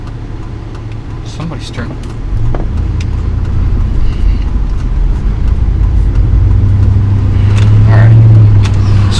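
A car drives through a hurricane-damaged area, its engine and road rumble a steady close drone that grows louder toward the end, with a brief spoken remark from inside the car.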